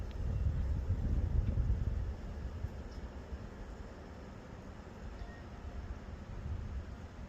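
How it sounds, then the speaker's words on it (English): Wind blowing through woods on a calm winter day, a steady broadband rush that swells loudest in the first two seconds, then eases to a softer continuous whoosh with no voices. "Can you hear the wind?"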